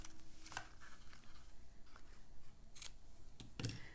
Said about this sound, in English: the ribbon is needing to be trimmed a little bit